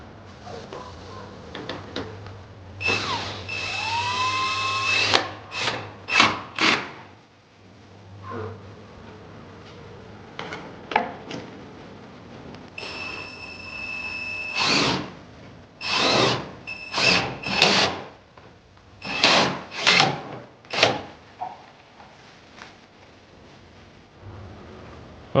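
A power driver on a 2018 Dodge Challenger runs in repeated short bursts as it tightens bolts with 16 mm and 8 mm sockets, with whirring pulses, ratcheting and metallic clinks close by and gaps of quieter handling between them.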